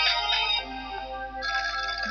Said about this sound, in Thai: โอ้โทรศัพท์มา